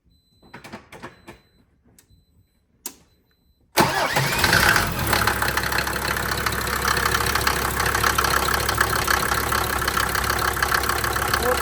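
A car engine cranks and fires up after reassembly, settling into a loud, steady idle that runs on for the rest of the clip, preceded by a few clicks and metallic knocks of work at close range.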